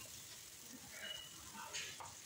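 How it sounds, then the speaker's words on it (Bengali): Tomatoes frying with spices in a pan of chicken curry, giving a soft, steady sizzle with faint stirring scrapes throughout, no voices. "ভালো করে ভাজা হয়ে গেছে, গন্ধ উঠে গেছে। এবার টমেটো দিয়ে দিলাম,"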